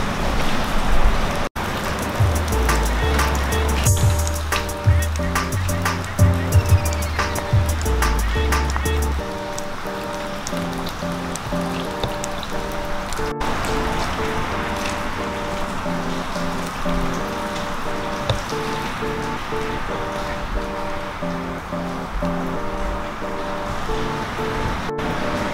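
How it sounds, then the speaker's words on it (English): Water rushes in and washes around like surf in a steady, loud, hissing splash that lasts throughout, layered over sustained musical tones. "there is water everywhere, and it, there's a lot of it coming in over there"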